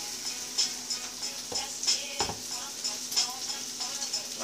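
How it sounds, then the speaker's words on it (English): Peppers sautéing in butter in a pan give a steady soft sizzle, broken by a few light clinks and stirring scrapes. "So I just have my peppers and butter sauteing."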